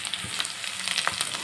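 Chopped onions and green chillies fry in a pan with a soft, continuous sizzle and a few light stirring scrapes, fairly quiet and without talking.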